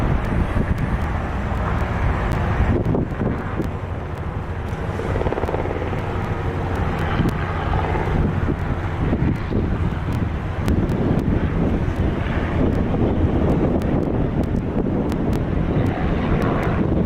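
Airbus A220-100 airliner at Long Beach airport, its engines giving a steady, loud jet roar mixed with wind buffeting on the microphone throughout.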